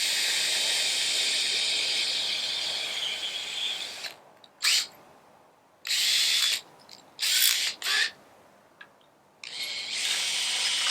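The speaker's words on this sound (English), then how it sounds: "I'm going to drill through with an 1/8 inch drill bit, and I'm going to follow it through with a 3/8 inch" A power drill whines steadily, then stops and restarts in several short bursts with quiet gaps between them, drilling through with a 1/8 inch bit followed by a 3/8 inch bit during a Roswell Wake Air AVX installation.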